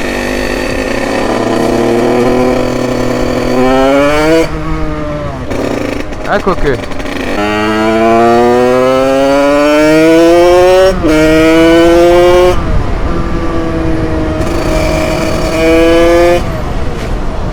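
A 50cc moped with a new transmission, 86 aluminium top end, revs hard while being ridden, its engine whining up and down in rising sweeps with brief drops between gear changes, close and loud, with someone speaking briefly.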